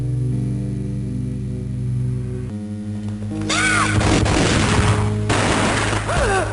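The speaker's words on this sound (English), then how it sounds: "The gunshot boomed and she fell down in slow motion." After a droning musical bed, a rapid volley of sharp gunshots in the Game Boy Advance game Max Payne crackles loudly, pauses briefly, then a second burst of firing follows.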